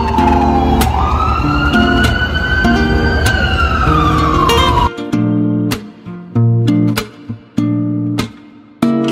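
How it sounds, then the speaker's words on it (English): Emergency vehicle sirens wail loudly in Times Square, New York, one rising and holding a steady tone before cutting off, then blaring horn blasts and further siren bursts over dense street traffic noise. "You can hear the sirens, you can hear the horns blowing."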